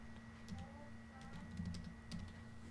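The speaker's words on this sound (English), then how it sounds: "I'm just going to type certificate here." Faint, quick bursts of keystrokes on a computer keyboard, a short run of soft clicks over a steady low electrical hum.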